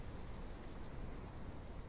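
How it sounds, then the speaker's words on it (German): Steady rain falls outdoors in the video game Airport Renovator, a constant even hiss with no breaks and no talking. "Wenn es jetzt regnet, ist natürlich das beste Wetter hier draußen"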